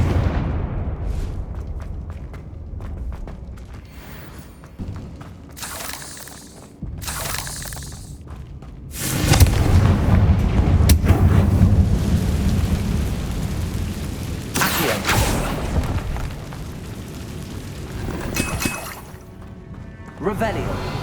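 The Confringo fire spell explodes in the Hogwarts Legacy video game with heavy booming blasts and rumbling debris over a loud ambient score, and a voice speaks over parts of it.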